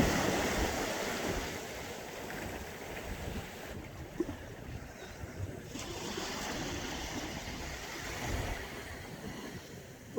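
Atlantic Ocean waves wash onto an empty shore on a cold, cloudy day, a continuous broad roar with gentle swells, mixed with wind buffeting the microphone.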